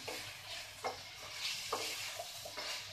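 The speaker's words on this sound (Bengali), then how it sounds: "ভালোভাবে নেড়ে চেড়ে" Vegetarian jackfruit curry with fried potato being stirred in a pan as the water cooks off, a steady oily sizzle broken by a few scraping strokes of the spoon, close and moderately loud, no voices.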